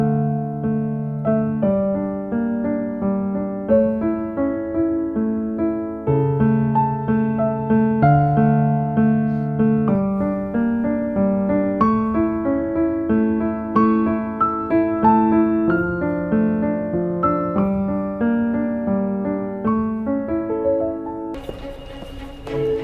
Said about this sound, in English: it's played on a theremin